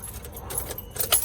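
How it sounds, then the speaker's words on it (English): Car keys jangle close by while a driver gets ready to start a car being checked for an engine misfire, with brief metallic clinks and a soft engine-like rumble underneath. "So we're gonna go ahead and start the car up"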